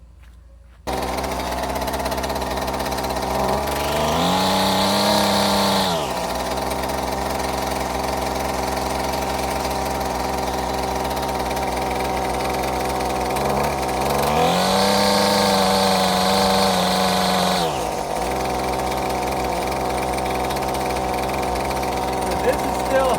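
A Husqvarna 128LD string trimmer engine running on half choke with a replaced carburetor, idling with a buzzy drone and revving up twice in long surges before dropping back; a voice talks over it.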